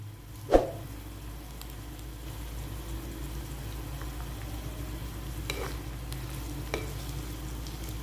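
Potatoes sauté lightly in a pan for aloo ki bhujia, giving a soft, steady low sizzle with an occasional clink or tap of a utensil, close and quiet.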